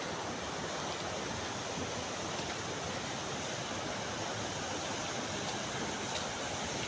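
Purvaniya river flowing through an open forest: a constant broadband rush of moving water, steady and unbroken, heard alone without voices.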